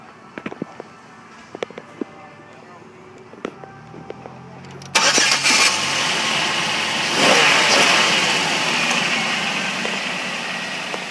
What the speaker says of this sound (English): I'm gonna pop the hood and start the motor so you can hear her.